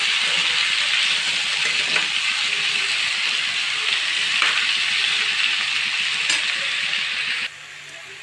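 Potato pieces fry in a pan with a steady, loud, hissing sizzle, broken by faint scraping knocks as they are mixed, before the sizzle drops lower near the end.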